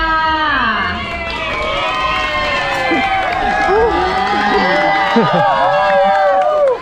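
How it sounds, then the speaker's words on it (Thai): A crowd at the Chiang Khan Super Half Marathon cheers and shouts over a continuous noisy background, with excited voices layered together; clapping is not clearly distinct. "ขอเสียงปรบมือท่านด้วยค่ะ"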